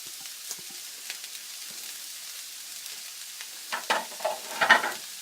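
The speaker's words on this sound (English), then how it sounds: "I'm hoping that you guys can hear that sizzle." Quiet steady sizzle of onions frying in a pan, with a few louder crackling bursts and stirring scrapes toward the end.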